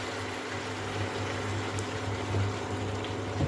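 Soy sauce poured into a pan of cooking onion, ginger and garlic gives a steady, even hiss of liquid sizzling under a low background hum.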